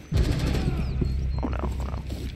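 Gunfire in the Rainbow Six Siege video game, a rapid burst of shots at the start followed by scattered mechanical clatter and distant booms, moderately loud with no talking.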